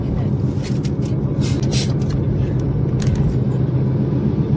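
Heavy road traffic in a long jam hums and rumbles close by at night, with brief hiss bursts from passing vehicles and people talking over it.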